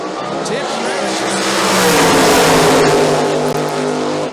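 A big block Chevy powered 1969 Camaro roars down the drag strip at Maryland International Dragway, a loud sustained engine blast that swells and then holds, with an announcer talking over it.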